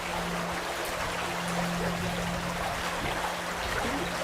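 The River Frome flows steadily as an even, continuous wash of water with no breaks across the stretch, heard outdoors at a moderate distance, with a faint low hum running underneath.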